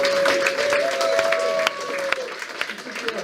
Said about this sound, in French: Vous pouvez l'applaudir parce qu'elle s'est investie fortement dans cette manifestation.